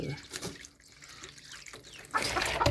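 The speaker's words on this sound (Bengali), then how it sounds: "পানি এখানে দিলাম।" Water splashes and trickles briefly, growing louder toward the end as it is poured, close and fairly quiet.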